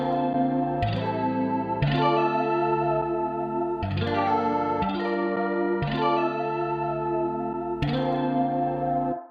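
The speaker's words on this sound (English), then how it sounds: "It's a low pass filter, set all the way high, the resonance is in" Low-pass filter with resonance on a Maschine track processes a dense, buzzy synth-and-drum loop, with chord changes every second or two and a thick, effected tone, loud and steady with no talking.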